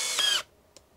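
A Makita XFD15 compact cordless drill/driver whirs briefly at high pitch for under half a second and then stops, followed by a faint click, close up.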